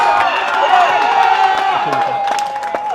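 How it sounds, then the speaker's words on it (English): Crowd at a SKNABA basketball finals game between Cayon Lions and Youth & Sports Eagles cheers and roars steadily throughout, with whoops and scattered clapping mixed into the loud, continuous noise. "And the crowd goes wild."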